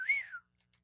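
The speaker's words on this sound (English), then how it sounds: "I improved on the whistle. The first one was weak." A single person whistles one short rising-then-falling note, clear and fairly close, lasting under half a second before silence.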